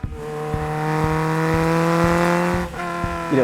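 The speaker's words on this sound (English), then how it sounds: "it shrieks like a banshee. I mean, it sounds like a sports car should sound." An InoKinetic 111RS sports car engine revs hard and high, a loud shrieking whine rising and holding, then dropping briefly before climbing again.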